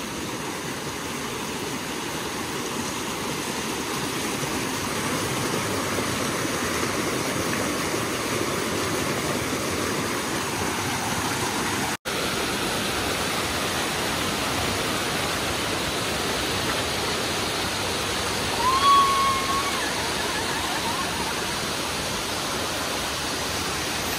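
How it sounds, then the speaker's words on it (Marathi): A waterfall near the Yelghol caves rushes in a steady, broad roar of flowing water, continuous and fairly loud throughout with no voices. "आणि पाण्याचा आवाज यायला पण सुरुवात झालेली आहे"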